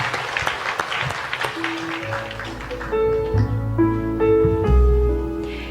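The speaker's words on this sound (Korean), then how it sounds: "우리 하나님께 영광의 박수를 올려드리겠습니다." A church congregation bursts into dense applause that fades after a couple of seconds, as sustained keyboard chords rise underneath and then play on alone.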